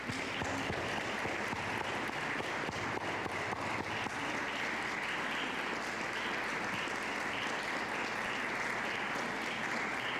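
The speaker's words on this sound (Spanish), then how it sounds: "Pido un aplauso para él." An audience at a tribute event at the Mexican Embassy in Guatemala applauds writer Guillermo Noriega Morales, a steady, even roar of many hands clapping, moderately distant and continuing unbroken for about ten seconds.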